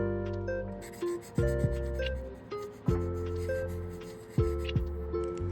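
Alcohol markers rub and squeak across paper in short swatching strokes, each stroke a soft scratchy drag, repeated several times at close range with a few faint taps between, over quiet background music.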